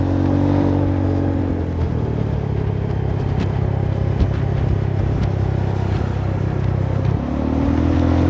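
A Honda Forza 300 scooter with a suspected broken bearing near the rear gear housing runs with a continuous droning rumble and faint clatter; engine pitch rises at the start and again near the end, with no voices.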